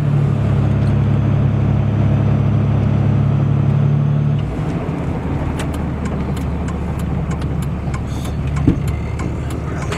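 A Jeep rolls up a residential driveway, its steady engine rumble holding loud and close for about four seconds before easing to a softer, lower idle, with a brief thump near the end.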